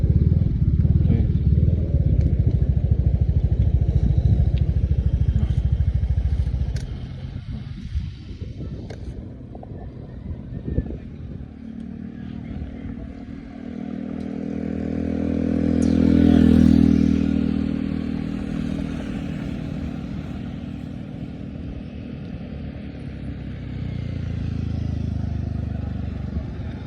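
A motorcycle engine drones continuously with heavy wind buffeting, the engine note rising and swelling midway before settling back to a steady hum.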